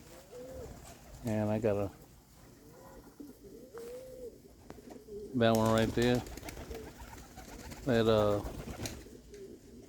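Young racing pigeons, including 500-mile birds, coo in a backyard coop, three rhythmic bursts of throaty cooing close by, with someone talking between and over them.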